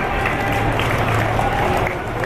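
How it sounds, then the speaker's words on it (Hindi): A crowd at a mushaira poetry gathering in a Hyderabad college gives light, continuous applause, a soft even patter over a low rumble of the hall. "हल्की तालियां आ रही हैं आपकी।"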